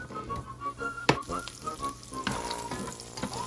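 Onion fries in a tablespoon of oil in a medium pan for chicken tinola, giving a steady close sizzle with a few sharp stirring clatters and no talking.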